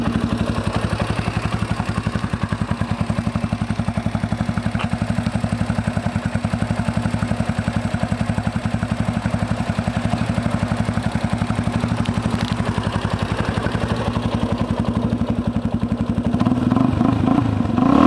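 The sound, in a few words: 2013 Yamaha Raptor 350 ATV engine running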